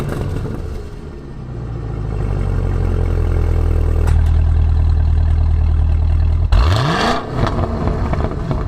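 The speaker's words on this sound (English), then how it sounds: "when you hit that, it takes you into the menu and you can hear the exhaust change on the car right away" Exhaust of a 668 hp V8 Cadillac CT5-V Blackwing running at idle, a deep steady rumble that shifts character as the drive mode changes, then a sharp rev blip rising in pitch before settling back, close and loud.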